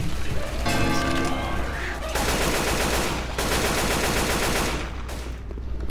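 Gunfire in a zombie video game: loud, sustained rapid automatic firing in long bursts, nearly unbroken across the clip, easing off only near the end.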